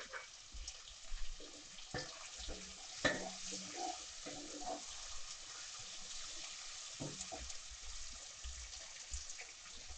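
Mint and tomato sautéing in a pan for chicken korma give a faint, steady sizzle, with occasional soft stirring scrapes and clinks nearby.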